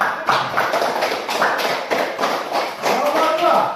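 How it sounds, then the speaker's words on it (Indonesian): Students in a classroom give a round of applause for a correct answer, with scattered, uneven clapping and tapping over a few seconds while a voice speaks. "Berikan aplaus dulu untuk yang benar jawabannya."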